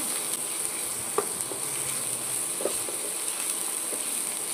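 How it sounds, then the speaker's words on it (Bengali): Ginger-garlic paste fries in a pan with onions, giving a steady close sizzle with a few soft stirring clicks and scrapes, no voices over it. "এবার দিয়ে দেব আদা রসুন পেস্ট।"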